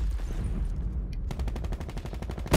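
Rapid gunfire in Call of Duty: Black Ops 4, a dense spray of shots that turns into a fast, steady automatic burst in the second half, loud and continuous over a rumbling game background.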